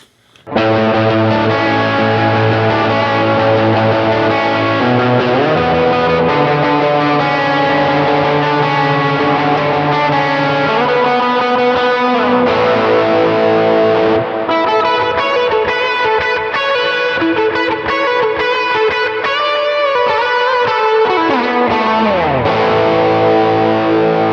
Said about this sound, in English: And now let's put the delay and reverb on for a nice lead sound.